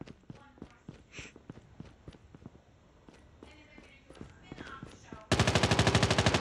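Pistol gunfire in a video game, heard as a rapid string of sharp shots with a voice talking between them, ending in a loud dense burst of fire.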